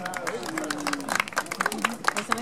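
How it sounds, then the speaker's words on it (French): A crowd applauds a Mazda MX-5 at a car presentation, a light, scattered clapping that runs under a presenter's continuing speech. "mesdames et messieurs, vous pouvez applaudir pour cette belle Mazda"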